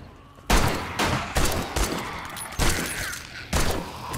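Gunfire in 7 Days to Die during a horde night: a quiet moment, then about six loud, close single shots at an uneven pace, each with a sharp attack and a short, fading reverberant tail.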